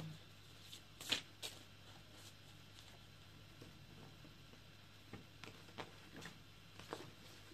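A deck of American Love Oracle cards is shuffled quietly by hand, soft riffling patters and small flicks coming in short bursts against a hushed room.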